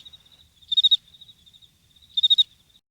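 Crickets chirp as an added sound effect, with a thin, high trill repeating softly and two louder bursts of quick pulses, clear and isolated against silence.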